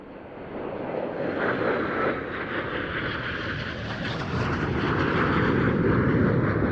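Two Tornado military jets flying at an airshow produce a sustained airborne engine roar with shifting whine and rushing tones, building louder over the final seconds.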